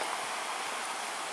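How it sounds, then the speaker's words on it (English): A stream tumbles over small tiers of mini waterfalls in the Porcupine Mountains, a steady, close, rushing hiss of water with no pauses and no voices. "Walking along the stream."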